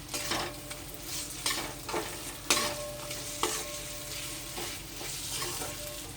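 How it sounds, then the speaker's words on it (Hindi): Potatoes fry in spiced oil for a bathua greens dish, a continuous sizzle broken by several stirring scrapes and spoon knocks against the pan. "अब इसमें आलू डाल के 1 से 2 मिनट तक फ्राई कर लेंगे।"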